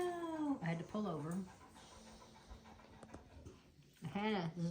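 A fawn puppy pants and whimpers in short, rapid breathy bursts close by, broken up by quieter stretches, with soft background sounds in between.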